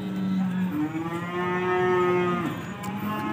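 Beef cattle at Pasar Pahing livestock market in Pati give long, loud, close moos, one low call rising into another sustained bellow, with market noise behind.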